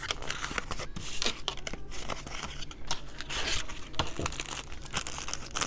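Crinkly plastic packaging being folded over while packing an order, continuous close crackling and crumpling with sharp rustles throughout, no talking.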